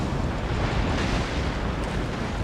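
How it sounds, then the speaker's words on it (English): Continuous broadband booming roar of cannon fire from a one-on-one naval gun battle between sailing warships in Napoleon: Total War, loud and dense throughout with no talk. "Rambo is hove to with his fleet and is just firing away. So it's a gun battle, a one-on-one gun battle here."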